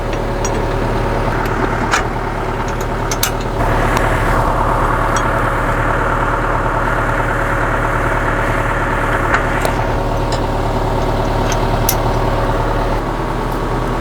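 A Trackless MT7 tractor engine idles steadily and loudly at close range, a constant low rumble with occasional clicks and knocks over it, no talking.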